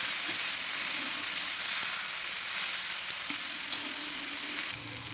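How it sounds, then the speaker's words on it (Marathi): Green peas fry in hot oil in a pan, a steady close sizzle and hiss running throughout with light stirring noises underneath. "आता हे वाटाणे आपल्याला तेलामध्ये व्यवस्थित भाजून घ्यायचे आहेत"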